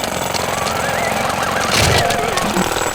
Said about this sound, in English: We will drill a hole in the ice here.